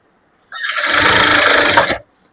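A sewing machine stitches a folded fold in a blouse lining, one steady whirring run of about a second and a half that starts and stops abruptly, close and loud with no talk.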